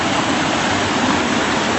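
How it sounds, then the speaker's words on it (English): A creek roars with dense, steady rushing water, a loud broadband wash that stays constant throughout, near and with no voices. "There's the creek where it's roaring in."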